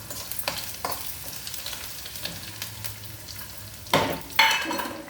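Lentils, mustard seeds, cumin and garlic sizzle in hot oil as tempering for a pumpkin stew. There is a steady crackle with stirring scrapes and two louder bursts of spattering near the end, and no talking.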